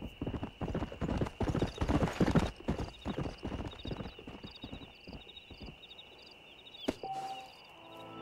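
Horse hooves clip-clop in the video game Red Dead Redemption, a quick rhythmic run of hoofbeats that slows and fades, with a brief whinny and soft game sounds near the end.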